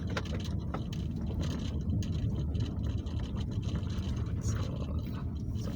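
Vehicle running on a dark rural road in Tanay, a steady low engine rumble with wind buffeting, close and continuous without talk.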